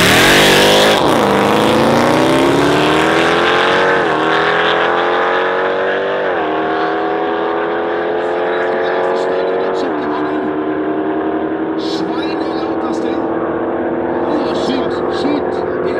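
Lamborghini Urus and Jeep Grand Cherokee Trackhawk, each around 1000 hp, in a drag race: loud, steady engine roar with rising pitch sweeps as gears shift, close and continuous throughout.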